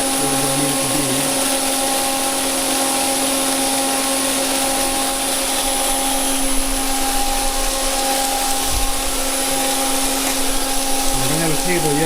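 A belt grinder runs in a workshop, giving off a continuous loud, even motor whine and hum with a brief thump partway through.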